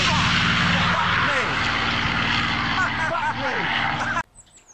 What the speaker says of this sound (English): Don't you love the sound of that Merlin engine?